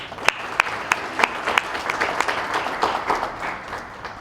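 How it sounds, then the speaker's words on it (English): Audience applause at a business school awards banquet, honoring new scholar leaders: a room of clapping with sharp individual claps standing out early, building to steady dense applause and fading slightly at the end. "Let's give our 10 new scholar leaders a round of applause."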